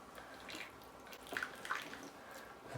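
Water poured around the edges of soil in a strawberry grow bag makes soft trickling and dripping, with a few brief splashes and gurgles at low level.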